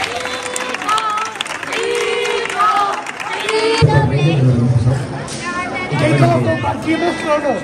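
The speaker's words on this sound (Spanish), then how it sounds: "Un aplauso muy fuerte." Crowd at a village San Juan festival in Rabanera del Pinar claps and cheers for the festival queen, a loud babble of voices and applause with a nearby speaker talking over it, rising again toward the end.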